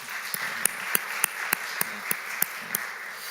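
A church congregation claps for the young drummer after Sunday worship: sharp, evenly spaced claps in unison, about three per second, ringing steadily in a reverberant room.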